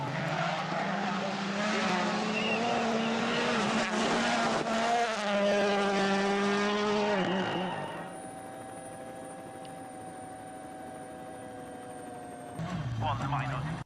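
A rally car at Safari Rally Kenya 2022 drifts, its engine revving and wailing in rising and falling tones before fading to a steady distant drone, with a short surge of engine noise at the end.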